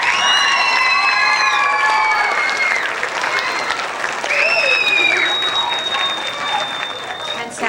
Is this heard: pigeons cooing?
no